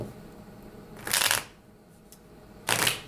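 Two quick riffling bursts of tarot cards being shuffled, close up, with a quiet pause between them.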